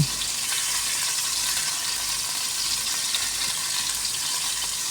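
Salmon fillet sizzles steadily in a frying pan, a dense continuous crackle filling the clip with no pauses and no voices, close and fairly loud.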